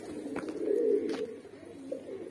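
Banarasi highflyer pigeons in a market coop coo with soft, steady low throaty murmurs that swell and ease, close and continuous, with no talk over them.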